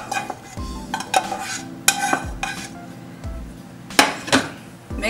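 A cranberry sausage stuffing mixture with pecans and craisins is stirred in a bowl, giving a series of scraping and clinking strokes spaced out and fairly close, with no voices.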